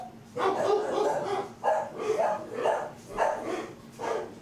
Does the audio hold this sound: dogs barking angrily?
yes